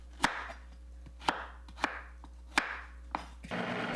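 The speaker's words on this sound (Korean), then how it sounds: "생강이 믹서에 잘 갈리도록 작은 크기로 썰어주세요" A knife chops small pieces of washed ginger on a cutting board for honey lemon ginger tea: six crisp, evenly spaced thuds close up, each with a short ringing tail, then a hiss of broadband noise at the end.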